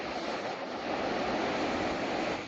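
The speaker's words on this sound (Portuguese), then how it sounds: "As ondas continuam avançando, a água avançando na faixa de areia" Winter ocean surf washing up onto a sandy beach at Cidreira, Brazil, a steady broad roar of breaking waves mixed with wind noise, with no voices.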